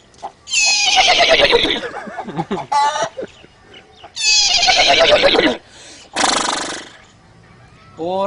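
A voice imitates a horse neighing: two loud, shrill whinnies that fall in pitch, each followed by short breathy snorts, close and alone with no other talk.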